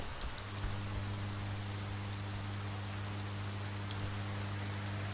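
Steady rain falls in the game Oxenfree, an even hiss of drops on surfaces under a low constant hum, moderately loud, with occasional sharper drips and no talking.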